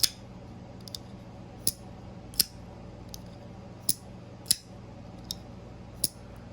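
Titanium Asher Spiro framelock folding knife snapping open and shut, giving about eight crisp, sharp metallic clicks at irregular intervals, close and clear over a quiet background.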